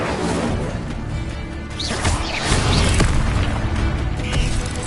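Incendio fire spell cast in Hogwarts Legacy, a dense roaring burst of flame with whooshing crackle and bursts over a continuous loud game soundscape, swelling midway and holding steady.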